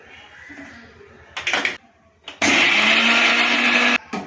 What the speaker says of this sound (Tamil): தேங்காய் சட்னி செய்ய போறேன்பா கொஞ்சோண்டு தேங்காய் ஒரு பச்சை மிளகா ஒரு பூண்டு பொடிகளில் கொஞ்சம் உப்பு